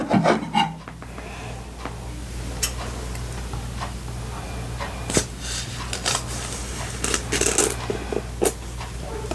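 Scratchy rubbing, crinkling and small ticking scrapes come from plastic wrap being cut off a reflective Wild Eden Tarot deck box, close up and irregular.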